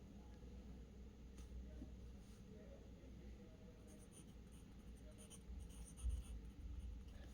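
Pencil writing on paper for an engineering drawing, a soft continuous scratching close by under a low background rumble, with no clear talking.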